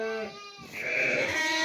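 Lambs bleat inside a barn, several wavering, nasal calls overlapping close by, with a short pause between them and no talk.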